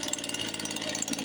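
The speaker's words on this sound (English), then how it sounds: "This is my weed eater chainsaw, Mr. Mall." A two-stroke weed eater chainsaw engine runs with a steady, buzzy, close drone over a short stretch.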